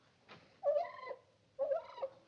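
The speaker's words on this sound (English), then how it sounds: "It's a turkey gobble." Turkey gobbling twice in quick succession, two short warbling rattling calls from a moderate distance, heard alone without any talk.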